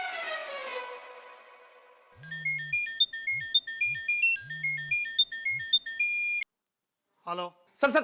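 A phone rings on a repeated call, a bright electronic melodic ringtone looping steadily for several seconds after someone speaks, then cutting off as voices return.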